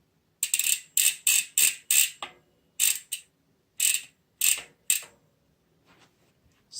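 Clicks from a Novatec bicycle hub ratchet ring mechanism, a run of about ten sharp, close mechanical clacks in an uneven rhythm, with a few faint ticks trailing off at the end.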